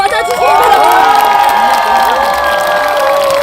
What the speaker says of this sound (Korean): 한번 큰 박수로 맞아주시기 바랍니다.